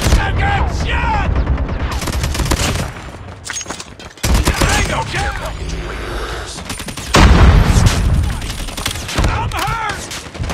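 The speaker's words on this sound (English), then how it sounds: "Shotgun shot!" Rapid bursts of gunfire and booming shots from a shotgun firing in the Call of Duty video game, loud and dense, with in-game voices shouting over the shooting.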